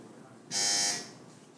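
A quiz buzzer sounds once in a bright, steady electronic tone lasting about half a second, clear and close over a quiet background.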